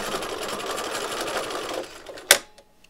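A sewing machine runs a steady straight stitch through an appliqué fabric patch, its rapid needle rhythm humming close and loud for about two seconds before stopping with a sharp click.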